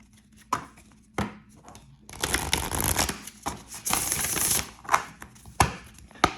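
Tarot cards being shuffled by hand, a run of brisk riffling and slapping bursts broken by short pauses and a few sharp taps, close and fairly loud with no talking.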